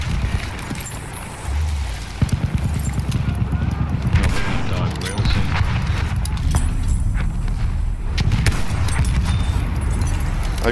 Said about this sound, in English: I just destroyed the vehicle with a sniper shot by pressing right on the trigger.